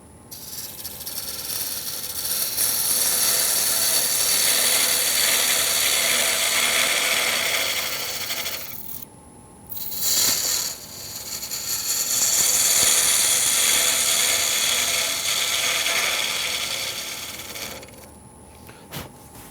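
Wood lathe spinning while turning a wooden mortar and pestle, a steady rasping, scraping tool-on-wood hiss that runs near and loud, breaks off briefly twice, then resumes.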